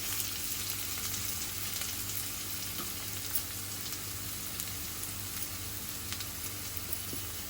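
Onions frying in oil for a traditional cluster bean and pumpkin bhaji, giving a steady, dense sizzle that crackles evenly and continuously throughout, with no talking.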